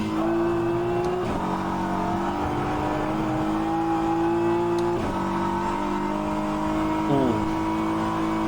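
A GT3 race car in the rFactor 2 racing sim, BMW, Corvette or Ferrari, drones steadily at high revs, with brief shifts and rev changes mid-run before settling into a sustained engine tone.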